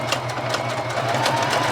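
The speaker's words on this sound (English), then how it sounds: "I might as well use the sewing machine" A sewing machine stitches through a junk journal page, its needle running in a steady, fast mechanical whir at close range.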